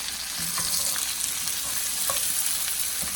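Mushrooms sauté in a pan for beef stroganoff, a loud continuous hissing sizzle with light crackles and faint stirring clicks, no talking.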